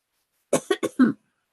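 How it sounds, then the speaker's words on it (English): Four quick coughs in a short burst during a Zoom meeting, fairly close and loud, with silence before and after. "Oh, don't cough."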